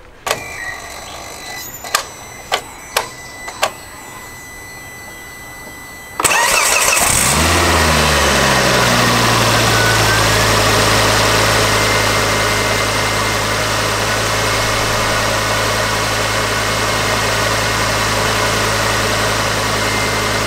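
A car fitted with a Pro Setup Inc 5251 aluminium induction kit gives a few sharp clicks, then cranks and fires up abruptly, settling into a steady, loud idle that runs on alone.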